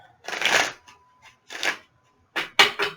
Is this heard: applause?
no